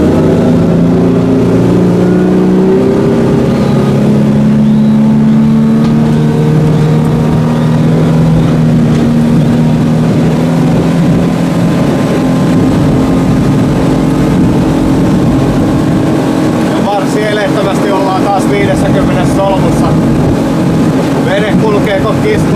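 Yamarin Cross 75 Bowrider with a 300-horsepower Yamaha F300 outboard accelerating, the engine note climbing steadily in pitch under loud wind and water rush, heard close throughout.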